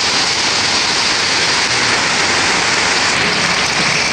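Heavy rain pours down steadily outdoors, a dense, loud, continuous hiss with no breaks and no voices.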